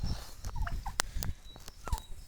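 Domestic turkeys, hens and a tom offered for sale, gobble and cluck in a short burst of several quick calls and sharp clicks, close by with no talk.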